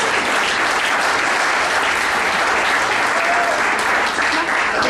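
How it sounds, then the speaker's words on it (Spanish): Loud, dense congregational applause in a church service, a continuous roar of many hands clapping at full volume, filling the space without pause. "Dale un aplauso al Señor Jesús"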